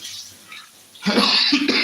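Two harsh, loud coughs close to the mic after a second of quiet background, the second following shortly after the first.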